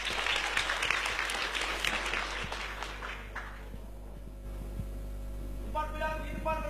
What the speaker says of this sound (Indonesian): Beri tepuk tangan yang meriah untuk SMK Negeri 3 Bangli